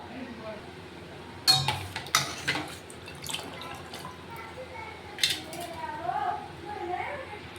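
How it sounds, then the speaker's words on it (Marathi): A spoon stirs sugar into green mango sharbat in a pot, giving several distinct clinks and scrapes against the metal with quieter swirling between them. "हे मिक्स करून घ्यायचे थोडं।"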